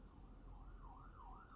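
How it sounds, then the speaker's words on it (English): Emergency siren passing outside, a wailing tone rising and falling in slow sweeps, faint and muffled as if heard through walls. "sorry if you hear the sirens."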